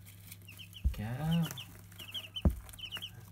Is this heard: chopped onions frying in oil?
no